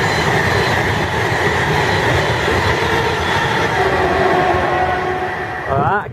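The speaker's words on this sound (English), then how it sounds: "Next train to go through platform 6 is a Virgin Trains Pendolino bound for" A Virgin Trains Pendolino passes through a platform at Milton Keynes Central, a loud continuous rumble and rush of wagons and wheels that holds steady throughout, with brief high wheel squeals near the end.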